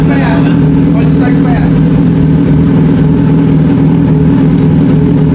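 A Kawasaki Z900SE fitted with an SC Project titanium muffler idles with a loud, deep, throbbing burble, close up, while someone talks over it.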